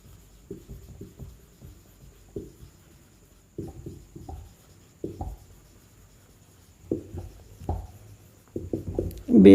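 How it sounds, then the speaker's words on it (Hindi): Chalk or marker writing on a classroom board during an economics lesson, with scattered scratchy strokes in short bursts across the clip, close and moderately loud, with no talk over it. "यहाँ पे लिख देता हूँ मैं"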